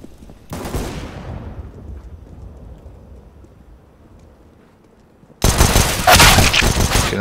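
Counter-Strike: Global Offensive gunfire on the Anubis map: a sharp shot at the start that rings out and decays, then a sudden loud sustained burst of rapid fire near the end.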